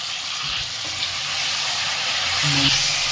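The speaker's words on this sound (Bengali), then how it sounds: "ফুলকপিটা পানি ছেড়ে দেবে, দিয়ে ভালো ভাজা হবে।" Cauliflower fries in hot oil with salt in a pan over a high gas flame, giving a close, steady hiss and sizzle with a brief low hum near the end.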